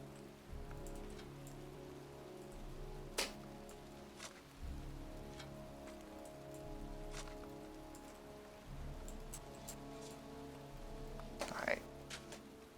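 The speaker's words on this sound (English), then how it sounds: "It's raining. I'm standing outside getting soaked." Steady rain patters outdoors in the video game Heavy Rain, a quiet continuous hiss with occasional sharper drips and low rumbling beneath, while a voice talks over it.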